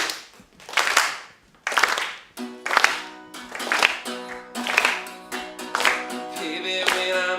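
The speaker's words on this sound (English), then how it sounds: "Clap with me, folks." An audience claps along to music at a live performance, a series of loud clap bursts giving way to sustained tonal music, near and alone with no talk.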